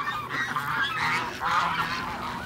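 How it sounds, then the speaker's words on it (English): Farm ducks or geese in a greenhouse yard, a dense, continuous chorus of loud honking calls close by, overlapping with no pauses and no talking. "There's the ducks."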